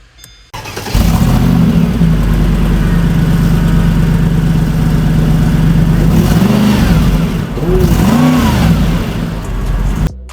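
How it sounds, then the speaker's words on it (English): Mercedes SLR engine started and revved close by: a sharp catch into a loud, deep, steady idle, followed by a couple of rising and falling revs near the end. "And then you hit the starter."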